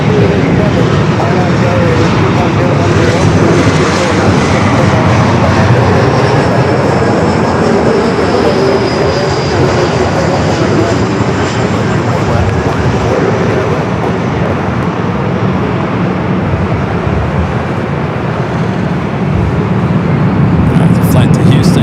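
A jet airliner bound for Houston takes off down runway 24 left at LAX, a loud, steady roar of engines filling the whole stretch with broadband rumble, with talk over the top.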